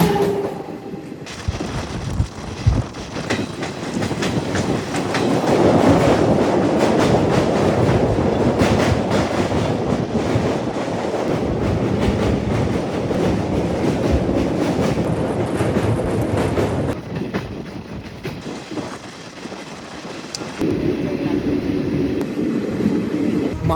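A passenger express train out of Sealdah, just pulling away from Naihati station, rumbles steadily along the rails with a loud, continuous roar and a rattling clatter that holds throughout, briefly easing near the end.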